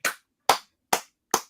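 Four slow, separate hand claps ring out crisply and evenly spaced, each sharp and close with a quick decay, with no crowd or voices.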